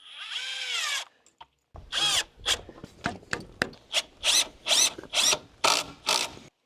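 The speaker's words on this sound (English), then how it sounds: "This time I'm gonna pre-put in 2 screws." A power drill drives screws into wall framing during a house build: after a brief whine, it fires off a rapid series of short, harsh bursts with rattling, rhythmic ratcheting, close and fairly loud.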